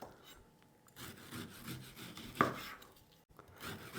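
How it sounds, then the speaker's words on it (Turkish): A knife cuts through partially frozen meat on a board for tantuni, giving soft rubbing and scraping strokes at close range, quiet overall with one sharper knock in the middle. "Öncelikle etimizi doğrayarak başlayacağız"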